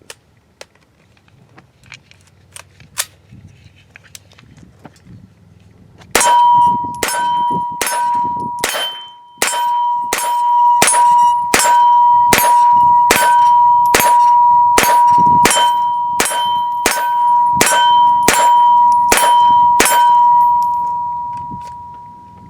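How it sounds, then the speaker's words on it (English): A Sig MPX short-barreled rifle fires a steady string of about sixteen shots at steel targets roughly 15 yards off, each sharp crack followed by a ringing metallic ping. The shots come loud and evenly spaced, with no talk. "here's the first shots with our Sig MPX as a SBR. Luke's shooting the steel from about, I'm going to say close to 15 yards there."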